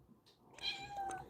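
A black cat gives a single short, fairly quiet meow, close by.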